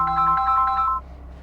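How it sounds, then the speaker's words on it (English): A repeating electronic ringtone for an incoming phone call plays through the cabin speakers of a 2025 Ram Rebel pickup. It pulses in a quick, bright melodic pattern, then cuts off and leaves a low steady hum. "of course, gonna get a phone call in the middle of this."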